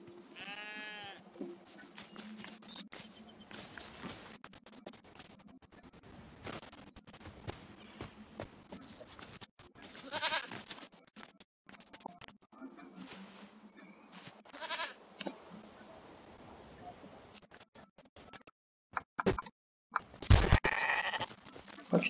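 Sheep bleating in the video game LEGO Fortnite, a few short bleats scattered among clicks, footsteps and other game sounds, with one loud burst near the end.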